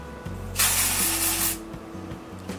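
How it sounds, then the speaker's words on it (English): A single dry shampoo aerosol spray hisses for about a second, close and loud, over a low mechanical hum. "So just spray it on very little bit."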